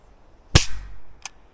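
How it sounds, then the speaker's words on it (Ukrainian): A single sharp air pistol shot cracks close by, followed by a quick metallic click a moment later. "відбувається постріл"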